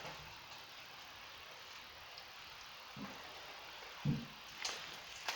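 Rain falling outdoors on a warm day, a faint, even patter of drops across the whole stretch with a few louder taps near the end, distant and quiet.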